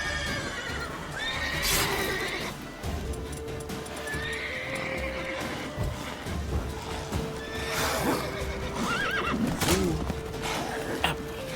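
A horse whinnies repeatedly over steady clip-clopping hooves and background sounds in the video game The Witcher 3, fairly loud and continuous throughout.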